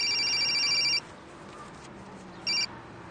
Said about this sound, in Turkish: Alo, buyurun canım Pembe Hanım'ın telefonusudur.